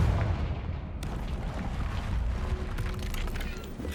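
A Confringo fire spell blasts in the Hogwarts Legacy video game, a sharp burst followed by rumbling, crackling noise that sustains through the clip alongside background game sounds.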